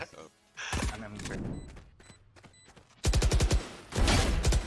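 Bursts of rapid Odin machine gun fire in the video game Valorant, close and loud, with a heavy sustained volley near the end, mixed with game sounds and some talk.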